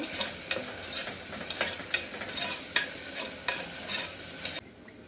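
Masala stirred in a pressure cooker pot for chicken biryani, a steady run of rhythmic scraping strokes under a soft sizzle that stops abruptly near the end.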